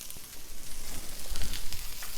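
Garlic frying in a hot pan over high heat, sizzling with a steady, dense crackle that carries on without a break, close by and with no talking.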